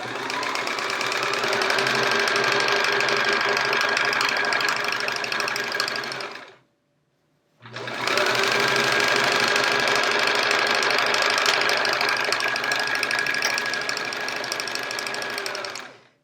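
A sewing machine runs fast and steadily while stitching quilt chevron pieces, a loud mechanical whir with a constant pitch that stops briefly for about a second midway, then resumes just as steadily.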